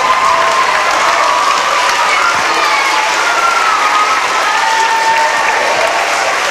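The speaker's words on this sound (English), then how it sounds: "may I ask the student body to please stand and give a round of applause for our teachers" Students at a back-to-school pep rally stand and applaud their teachers, a dense, steady roar of clapping from a large crowd that carries on for the whole stretch with faint cheering mixed in.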